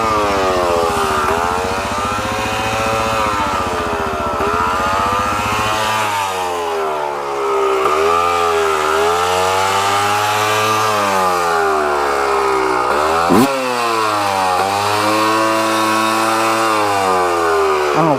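Suzuki DRZ400SM dual-sport motorcycle engine revving up and down in rising and falling sweeps, loud and close, the throttle hanging open between blips; no talk.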